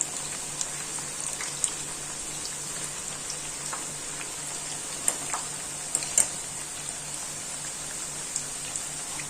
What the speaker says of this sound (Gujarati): હવે આ ક્રિસ્પી થાય ને ત્યાં સુધી આપણે તેને તળી લેશું.